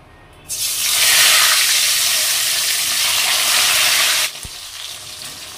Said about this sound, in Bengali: তেলটা গরম হয়ে গিয়েছে, আর এখন মাছগুলো ভেজে নেব।